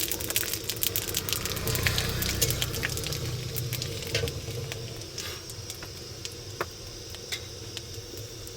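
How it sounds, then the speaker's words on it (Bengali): Dried red chilies and five-spice seeds crackle and sizzle in hot oil, a steady frying hiss with scattered sharp pops throughout, moderately close and alone. "শুকনো লঙ্কা ফোড়ন দিচ্ছি, এরপর দিব 5 ফোড়ন"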